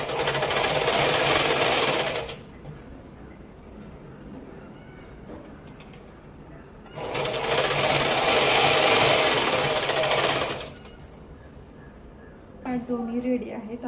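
Sewing machine top-stitching a baby frock runs in two loud, steady bursts of rapid stitching, each a couple of seconds or more, with quieter pauses between and a brief voice near the end.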